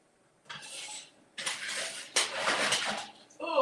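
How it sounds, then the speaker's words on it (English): A heavy skillet is pulled out of a kitchen cupboard, with three bursts of metallic clanking and rattling of pots and pans close by. A brief clatter comes at the end. "All right, so let me get a skillet."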